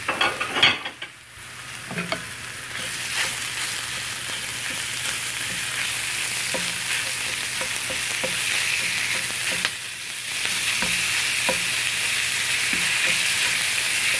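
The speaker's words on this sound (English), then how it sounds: "Then put about 1 pound of ground beef." About a pound of ground beef fries in a pan with a loud, steady sizzle, broken by occasional stirring scrapes and clicks, close up and without any voices.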